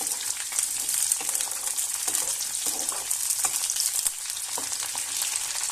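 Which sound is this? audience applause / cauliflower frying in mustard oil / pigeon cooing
cauliflower frying in mustard oil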